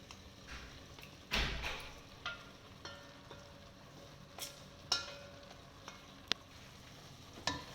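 Fried vegetables are tipped into a thick, oil-releasing biryani gravy and stirred, with a clattering drop, soft sizzling and scattered spoon scrapes and knocks against the pot.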